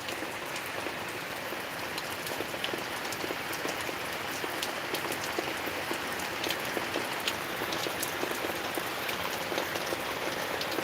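Steady rain falls on surfaces around Kasarwadi village in a dense, continuous patter. Sharper drips and taps stand out now and then, and no voices are heard.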